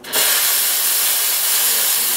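The steam wand of a Bezzera Strega espresso machine opens with a sudden burst, then gives a loud, continuous hiss of steam that holds steady to the end.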